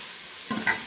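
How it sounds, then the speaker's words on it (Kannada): Onions sizzle in a pan while being cooked for bisi bele bath; a soft frying hiss runs through, then a stir scrapes and rustles near the middle. "ಈರುಳ್ಳಿದು ಹಸಿ ವಾಸನೆ ಹೋಗಬೇಕು, ಅಲ್ಲಿವರೆಗೂ ಹುರ್ಕೋತಾ ಇದ್ದೀನಿ ಇದನ್ನು."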